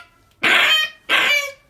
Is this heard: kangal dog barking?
yes